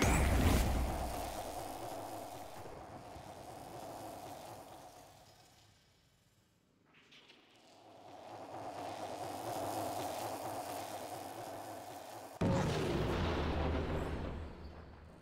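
Explosive game weapon sound from Nova's antimatter drop projectile in a video game, with two sustained rumbling, crackling blasts, the first fading out midway and a second bursting in abruptly near the end, loud and without talk.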